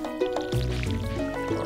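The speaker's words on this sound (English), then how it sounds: "we have to water our plants." Watering crops in the Stardew Valley farming video game gives a short run of soft splashing and pouring blips layered over the game's steady background music, loud and continuous with no talk.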